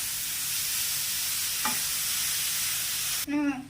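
Grated carrot fries in ghee for jaggery carrot halwa, giving a continuous close sizzle with a brief stirring scrape midway, followed by a short voice at the very end.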